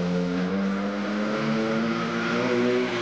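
A motorcycle engine close by, droning and revving steadily with clear harmonic tones that rise and fall over a few seconds, with no talk over it.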